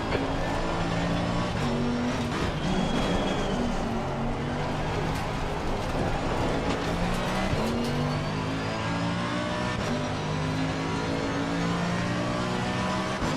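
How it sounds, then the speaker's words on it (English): A Lamborghini GT3 race car engine in a racing video game at Zandvoort drones steadily and loud, with rising and falling revs through gear changes, and other cars passing faintly alongside. "that's that treble 8 Lamborghini again behind us"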